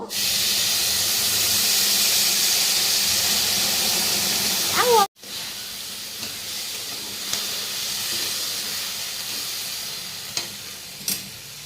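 Hot water poured onto rice being fried in a pan for pulao, producing a loud, steady hissing rush of steam and sizzle that cuts off abruptly, followed by quieter bubbling with a few faint clicks.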